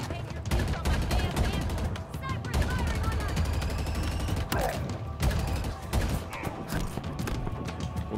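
Automatic weapon fire rattles continuously through a Halo Infinite firefight at a besieged outpost, dense bursts of shots layered over battle noise and occasional impacts, loud throughout with a voice talking in the mix.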